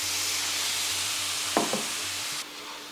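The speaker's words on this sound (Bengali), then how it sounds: "খানিকক্ষণ কষান যতক্ষণ না মশলা থেকে তেল ছাড়বে।" Black cumin, chilli powder and turmeric sauté in hot oil with a splash of water for a Bengali chitol fish curry, a soft steady sizzle with a couple of brief stirring scrapes.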